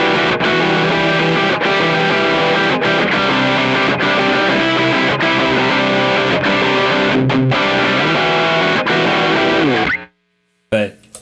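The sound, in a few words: guitar through distortion pedal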